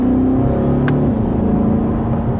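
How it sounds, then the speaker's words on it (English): A 2025 Chevrolet Corvette C8 E-Ray convertible engine revs up in a steady, loud rising drone, close by, with a brief whistle-like tone partway through. "let's give it a little small acceleration"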